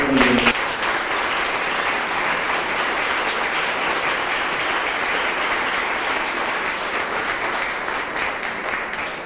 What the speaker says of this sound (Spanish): lo recibimos a nuestro obispo, a Monseñor Antonio Marino, y lo hacemos con un cálido aplauso